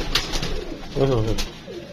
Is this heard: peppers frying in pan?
no